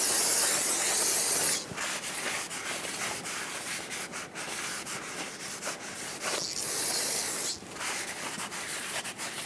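Brake parts cleaner sprayed from an aerosol can onto a front brake rotor of a 1995-2004 Toyota Tacoma 2WD, a loud steady hissing spray with two brief pauses, then wiping and rubbing with a rag, close up with no talking.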